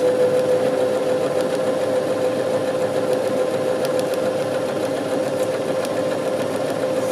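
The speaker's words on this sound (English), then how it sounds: "sew the seam, few stitches in reverse, finish the seam" A sewing machine stitches a French seam in garment fabric, giving a loud, steady, continuous mechanical whir with a constant pitch and faint rapid ticking throughout, with no talking.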